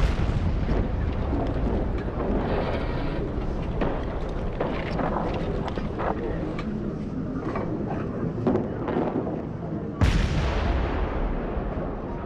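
A First World War artillery bombardment rumbles as a continuous, dense roar of distant guns and blasts. One sharper, louder crack stands out near the end.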